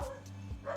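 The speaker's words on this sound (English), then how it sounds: "You're gonna hear Gino the Devil Dog bark right now" Gino the Devil Dog, a small dog, gives two quick faint barks spaced about half a second apart, heard softly and alone.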